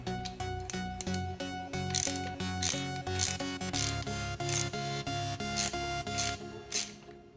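A wrench ratcheting on a nut during a short-throw shifter install on a 1992–2000 Honda Civic, rapid metallic clicks in quick repeated bursts, close and clear with no talking.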